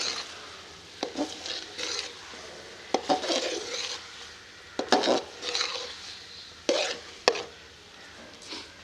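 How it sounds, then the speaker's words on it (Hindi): Minced meat and peas are stirred and fried in a pot, with repeated scraping and clinking of a spoon against metal over a soft sizzle, close and fairly quiet, with no talking. "अब कीमे और मटर को तकरीबन 10 मिनट के लिए भूनते हुए पका लेंगे।"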